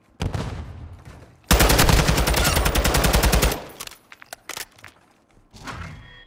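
Rapid automatic gunfire in a ranked video game match, a loud continuous burst of about two seconds after a single earlier shot, followed by scattered single shots and thumps.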